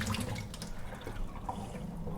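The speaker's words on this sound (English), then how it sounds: "Going to run a bit of water over it because we're going to let this sit." Tap water runs steadily over freshly strained pastina in a kitchen sink, a continuous close splashing trickle with no talk.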